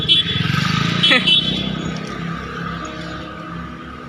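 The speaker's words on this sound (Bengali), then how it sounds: "আবার আমরা রওনা দিলাম বাইকে" A motorbike carrying two riders along the road near a bridge junction, its engine humming steadily under loud talking and rushing wind.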